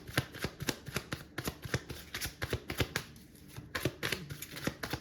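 A deck of tarot cards is shuffled repeatedly, giving a quick run of close, crisp riffling slaps with a brief pause midway before the shuffling resumes.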